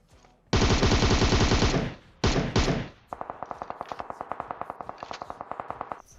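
Weapons fire in a PUBG Mobile match: a long, loud sustained burst of automatic fire, a brief pause, a second short burst, then a steady string of quicker, lighter shots continuing for several seconds.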